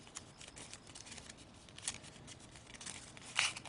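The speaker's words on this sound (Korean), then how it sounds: "반으로 접어서 닫고 가위질하고 넣고" Scissors snip through paper while a paper robot is assembled: soft, close cutting and rustling with a couple of sharper snips, quiet and alone with no talking.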